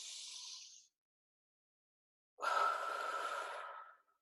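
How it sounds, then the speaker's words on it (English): Slow, deep breaths during a body scan meditation: a short exhale trails off, then after a silent gap a long, close breath draws in steadily and fades. "Breathing in."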